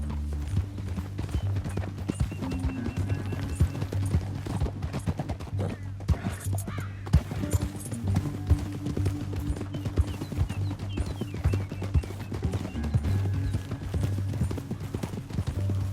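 Horses gallop in Red Dead Redemption 2, their hooves clip-clopping in a quick rhythm over a loud game soundtrack, with brief gunfire-like bursts mixed in.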